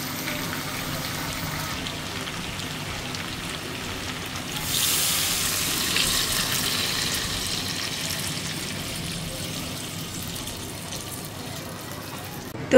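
Water poured into a pan of simmering chicken curry to make gravy, a soft bubbling hiss that surges into a louder rushing pour midway, then settles into a gentle simmer.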